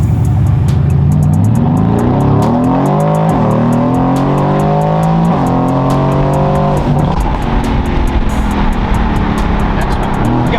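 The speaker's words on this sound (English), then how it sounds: "Those downshifts sound crazy." An 800-wheel-horsepower Mercedes-AMG GT S revs hard and downshifts, the engine note climbing and dropping in sharp steps with crackling pops, loud and continuous from inside or near the car.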